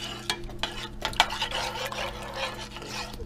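A spoon stirs food in a pan on the stove while cooking a Blue Apron crispy salmon meal, giving irregular scraping strokes over a low sizzle, close and moderately loud with no talking.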